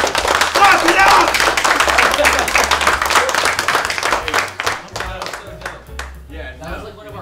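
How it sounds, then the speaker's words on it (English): A group claps enthusiastically, the clapping gradually thinning out toward the end while people talk and cheer over it. "Clap it up."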